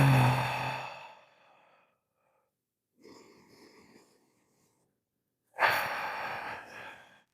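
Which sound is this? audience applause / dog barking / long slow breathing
long slow breathing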